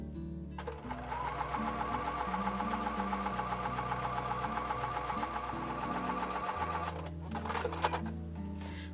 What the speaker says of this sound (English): take that back over to the sewing machine and sew this piece of sashing onto the quilt top.